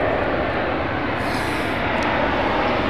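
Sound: Boeing 777-200 aircraft flying overhead at Heathrow

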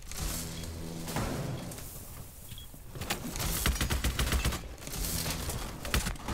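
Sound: shotgun fire in the video game Rainbow Six Siege

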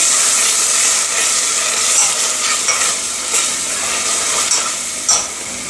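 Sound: stirring pasta in pan with pasta water

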